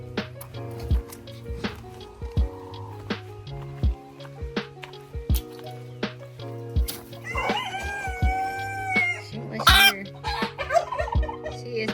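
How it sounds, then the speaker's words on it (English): A broody hen protecting her eggs clucks repeatedly up close, short throaty clucks with a louder squawking burst partway through. "a hen that's currently laying an egg"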